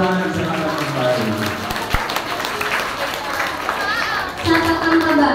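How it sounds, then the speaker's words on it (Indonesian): Students in a school classroom during an earthquake drill applaud together, a dense, loud patter of clapping running throughout, mixed with children's voices and general crowd chatter. "Kita kasih tepuk tangan, silakan kembali."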